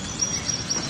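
Small birds chirp in brief, high, repeated notes among flower beds of azaleas and ipê trees in Belo Horizonte, Brazil, faint over a steady outdoor hiss.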